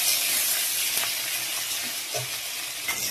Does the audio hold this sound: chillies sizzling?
yes